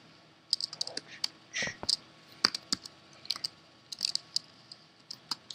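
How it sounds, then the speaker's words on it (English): Light, irregular clicks and taps of an ultra-sensitive computer keyboard during a Minecraft game, close and fairly soft, in scattered bursts with short pauses between keystrokes. "My keyboard's kind of ultra sensitive, so if I like tap it once, it's like I'm barely pressing down on it."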